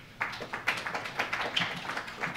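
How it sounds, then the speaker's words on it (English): A few people clap sparsely at a New York City policy breakfast on rent stabilization, with uneven, distinct handclaps in a quiet room that never build into full applause. "We don't need applause."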